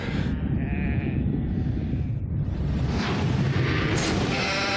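Sheep bleat in the New Zealand film Black Sheep, a dense, loud mass of overlapping animal cries over a heavy low rumble that continues throughout without pause.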